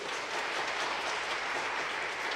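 A congregation applauding in a church during a Sunday service, a dense steady wash of clapping from many hands filling the room at an even level.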